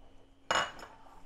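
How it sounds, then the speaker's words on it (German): A glass jar of home-preserved bratwurst is opened in a kitchen with one sharp pop and clink of the lid coming free and a fainter click just after, alone in a quiet room. "Und wir machen jetzt mal ein Glas zusammen auf."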